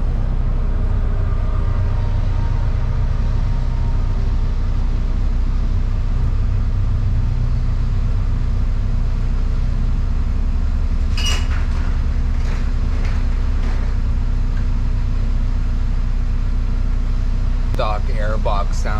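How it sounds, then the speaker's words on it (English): A 2018 Audi RS3 with a stock airbox idles close and steady as it warms up, a constant low drone with a few brief clicks and rattles toward the end. "Let the car warm up a bit before I punch it and rev it"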